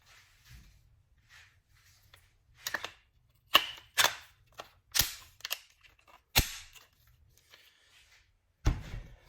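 Sharp metallic clacks and snaps ring out one by one with pauses between them as a rifle is reassembled on a shooting range, parts sliding and locking into place up close.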